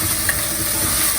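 Onions frying with ginger garlic paste for aloo keema, a steady close sizzle and crackle of hot oil, constant and moderately loud throughout.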